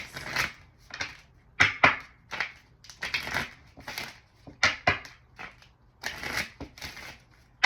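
Tarot cards being shuffled and pulled from a deck, giving close, crisp riffling bursts and papery slaps in uneven clusters with short pauses between them.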